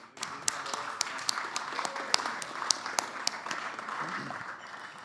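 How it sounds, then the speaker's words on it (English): Audience at a DeFi panel at LidoConnect 23 applauding the panelists, steady clapping of a modest crowd with a few sharp individual claps standing out, fairly close and sustained for several seconds. "let's give our panelists a round of applause."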